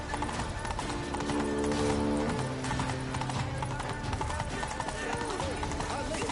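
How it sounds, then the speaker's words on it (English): Horse hooves clip-clop steadily in The Witcher 3: Wild Hunt, Blood and Wine expansion, a continuous trotting rhythm under loud game music and background chatter. "Horse, horse! Clear the path!"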